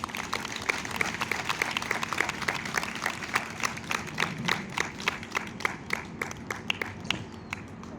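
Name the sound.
audience applause at an event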